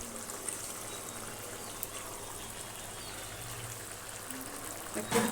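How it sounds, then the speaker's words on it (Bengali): Water pours into a cooking pot on the stove, a soft steady trickle that stays fairly faint and even throughout. "আর কিছুটা জল দেবো।"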